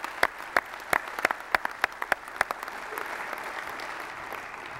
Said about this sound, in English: I'd just like to give everybody a round of applause.